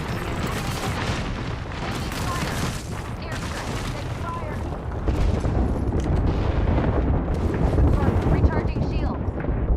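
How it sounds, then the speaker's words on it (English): Rumbling airstrike explosions and dense gunfire-like bursts in a sci-fi shooter video game, a continuous loud barrage that swells heavier in the second half, with talk mixed in. "Heads up, we've got an airstrike coming in."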